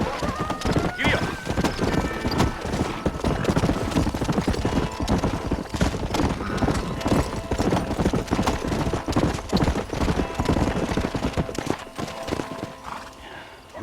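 Hooves clip-clop steadily in the western game Red Dead Redemption as horses ride along, with a whinny early on and someone speaking over the continuous galloping rhythm.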